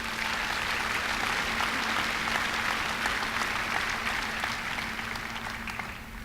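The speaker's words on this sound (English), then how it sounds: "it's time to give the students a round of applause for their accomplishments" A large crowd at the Forest Hills High School 2015 graduation gives the students a sustained round of applause, dense and even clapping that fades slightly toward the end, with a faint steady hum underneath.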